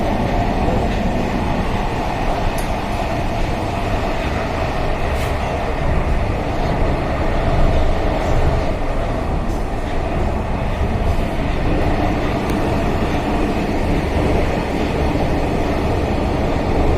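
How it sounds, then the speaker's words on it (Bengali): Local passenger train and a goods train run past below a high elevated station on the Dankuni line near Dakshineswar, Kolkata, a steady, continuous rolling rumble with metallic clatter lasting throughout, no voices. "নিচ থেকে লোকাল ট্রেন যাচ্ছে, পাশে একটা মালগাড়ি, ডানকুনি লাইন।"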